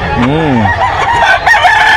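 Chickens clucking and calling up close, with a rooster-like crowing note at the start and a busy, noisy background throughout.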